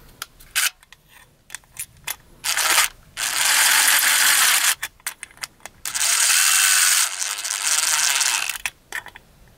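A wire clamp is tightened down while a bathroom exhaust fan is installed: close, loud bursts of rapid ratcheting clicks, two sustained runs between short taps and knocks, with no voices.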